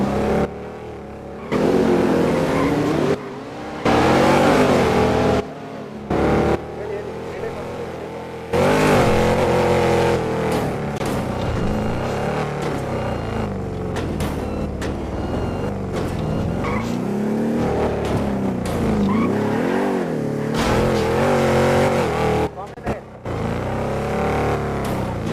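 A car engine runs and revs loudly and steadily over a long stretch, with brief drops and short gaps, and tire squeal and roaring passes come through in places.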